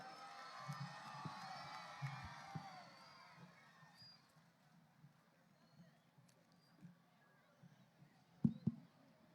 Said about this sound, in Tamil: ஜனாதிபதி சஜித் பிரேமதாஸ் அவர்களை உங்கள் உற்சாகமான கரகோஷத்துக்கு மத்தியில் அழைக்கின்றேன்.